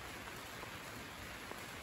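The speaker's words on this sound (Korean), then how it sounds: "이렇게 지금 비가 오는데 빗물이 떨어지지 않지요." Rain falls on a farm greenhouse as a soft, even hiss of many fine drops on the covering, steady and faint throughout with no voices.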